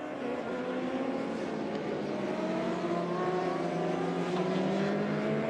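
An experimental racing motorcycle of Team Metiss drones steadily at high revs during the Bol d'Or 2023 endurance race, its pitch sliding slowly downward and then climbing again, loud and continuous with no talking.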